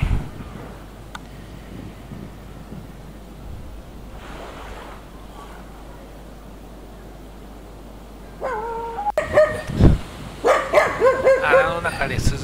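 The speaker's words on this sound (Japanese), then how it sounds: "穴の中で涼しみながら僕に吠えているという" Dogs bark several times on a tropical island beach in the Marshall Islands, sharp close barks after a long quiet stretch with surf in the background.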